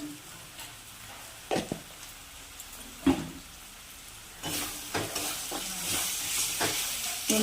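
Spiced prawns and cauliflower with turmeric and a little sugar sauté in a pan, giving a steady low sizzle broken by several sharp scraping stirs, growing louder and hissier toward the end.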